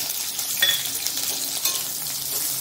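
Green chillies and onion hitting hot oil in a wok for a Bengali chorchori, a loud crackling sizzle with a clink of a utensil near the start, then a steady fry with no talk.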